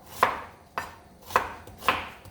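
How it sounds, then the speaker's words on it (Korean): Knife chopping an onion on a cutting board for kimchi stew, four evenly spaced sharp chops about half a second apart, close and clear with no talking. "남는 시간 동안 양파를 썰어 볼게요"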